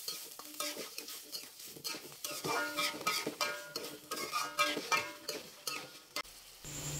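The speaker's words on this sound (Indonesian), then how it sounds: "Masukkan air secukupnya. Diaduk kembali." Food is stirred in a pan after water is added, producing continuous scraping and stirring with a light sizzle and occasional utensil clinks against the pan.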